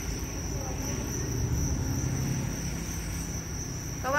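Farmed field crickets chirp with a steady, thin high trill, faint beneath a low background hum.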